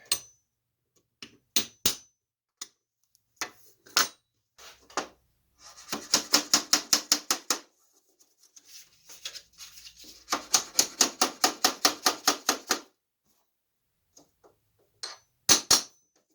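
Sharp metallic taps from a nail set driving glazing points into a wooden cabinet door holding replacement glass: scattered single strikes, then two fast even runs of about a dozen blows each, close and alone.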